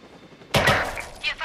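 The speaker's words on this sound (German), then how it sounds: "Hier fallen Schüsse." A short burst of gunfire in Watch Dogs 2: one sharp, loud shot, a quick follow-up crack, and a further pair of fainter shots, over quiet game ambience.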